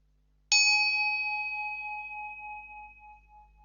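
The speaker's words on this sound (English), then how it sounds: "You hold the bell over the crystals and you tap it, wait for the sound to go, and it cleanses your crystals." A small bell tapped once over a set of crystals gives a bright, clear ding that rings on with a long, slowly fading shimmer in an otherwise quiet room.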